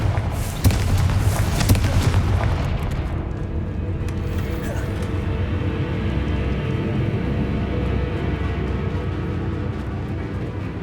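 A Confringo blast spell in Hogwarts Legacy bursts with a heavy booming impact early on, then a rumbling tail of explosive noise and game sounds; a voice speaks over the loud, dense mix.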